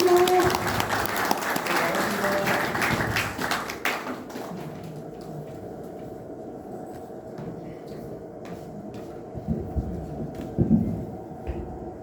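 An audience claps to welcome the director onto the stage at a lecture on depression and counseling; dense, lively applause fills the first four seconds, then thins into scattered claps and low room murmur.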